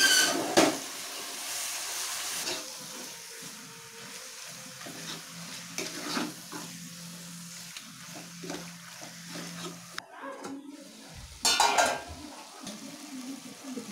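Mutton being stirred with stone-ground masala in a pan for a chilli gravy. Steady scraping and stirring with a soft sizzle runs throughout at moderate level. Occasional louder clatters of the spoon against the pan break through.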